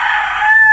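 A Sweater gamefowl rooster crows loudly and close by in one short, strained call that rises into a thin, sustained tone and then cuts off.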